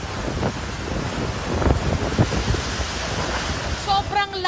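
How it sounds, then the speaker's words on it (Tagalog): A strong storm in Kasiguran brings roaring wind buffeting the microphone along with heavy rain in a dense, continuous rush, and a voice briefly begins at the end. "Sobrang lakas ng hampas ng hangin, pati na rin ang ulan dito sa Kasiguran."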